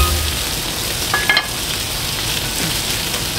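Fish sizzles and fries steadily in a pan, a loud, continuous crackling hiss with a few brief utensil clinks over it and no talking.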